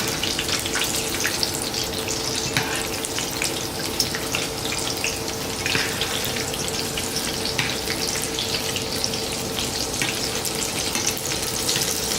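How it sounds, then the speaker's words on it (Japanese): Sweet potatoes deep-frying in hot oil for Chinese sweet and sour pork, a steady dense sizzling bubble running continuously and fairly loud throughout with no talking. "さつまいもはね、いい色になってきたので揚げておきましょう。"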